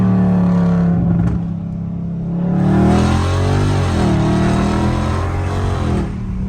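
A catless Dodge Scat Pack engine revs in track mode, loud and close, with a deep, steady roar that dips briefly and then climbs again into a sustained, harsh growl.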